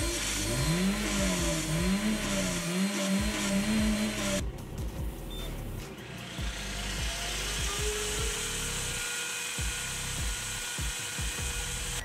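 A car engine fitted with a forced exhaust suction device runs steadily, first with a wavering whine riding over the mechanical clatter, then settling into an even running drone for the rest of the clip, loud and close with no talk.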